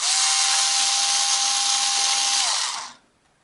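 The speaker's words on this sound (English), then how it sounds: "So let's take some screws out of this, see what it's like." A Ryobi Ergo 4V electric screwdriver runs steadily as it drives screws out, a loud continuous motor whir lasting nearly three seconds before spinning down and stopping.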